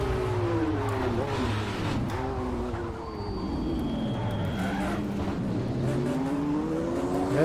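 Race car engine roaring continuously in Automobilista VR at Sebring, a Ford vs Ferrari era machine, pitch rising and falling through gear changes with a brief dip near the middle, loud and close throughout.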